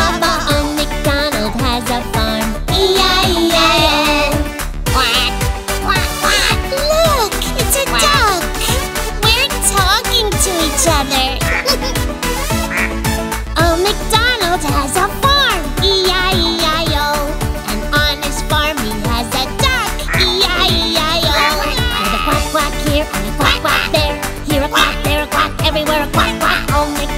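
Within a sung Old MacDonald nursery rhyme, quacks sound over bouncy, dense children's music, most likely voiced imitations of a duck.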